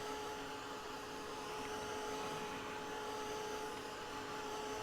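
Heat embossing tool blowing over tissue paper for junk journal ephemera, a steady whirring hiss with a constant high whine, close and continuous with no talk.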